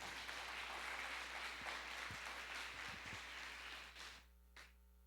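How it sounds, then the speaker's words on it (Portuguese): A church congregation applauding, a faint, dense wash of clapping that holds for about four seconds and then drops away, leaving a low hum. "Dê uma salva de palmas para Ele"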